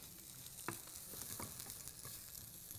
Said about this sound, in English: we're going to saute the veggies